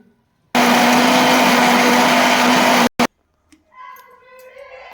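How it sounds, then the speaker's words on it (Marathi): A mixer grinder grinding ginger and whole spices into a masala roars loudly for about two seconds, stops, gives a short burst, then quiet voices follow. "आता मिक्सरमधून काढून घेऊया।"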